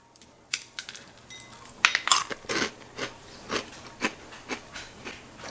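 Crunchy fried sweet rice crackers (rengginang) with plenty of garlic are bitten and chewed up close, giving a cluster of sharp cracks followed by a rhythmic series of crunching chews with no talking.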